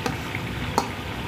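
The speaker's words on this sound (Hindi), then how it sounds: "अब हम डाल रहे हैं इसके अंदर अदरक लहसुन" Ginger garlic paste frying in hot oil with onions for a fish head salan, a steady close sizzle with a couple of sharp spatters or stirring clicks rising above it.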